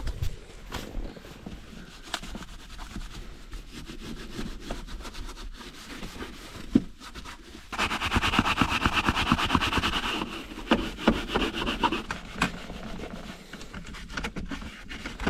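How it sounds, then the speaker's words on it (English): Clorox wipes scrubbing a car's center console and stick shifter, a close, steady rubbing and patting that grows louder and busier for a few seconds midway, with no talk. "we're just gonna use some Clorox wipes to get everything wet and agitated"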